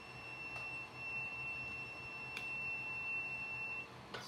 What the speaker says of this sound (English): Stop beeping, please.